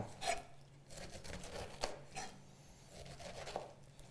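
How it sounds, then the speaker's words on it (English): A chef knife saws around the tough skin of a pineapple standing on its flat end, making a run of soft, close rasping strokes; faint and with no talking. "I'll stand my pineapple on the flat side and just run my knife around that tough skin."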